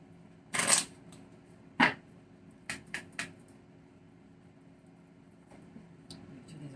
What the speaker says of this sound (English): I'm going to shuffle them even a little bit more